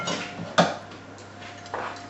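A lid clatters down onto a cooking dish of Thai-flavoured pork chops with one sharp clink, followed by faint clattering of dishware in a quiet kitchen.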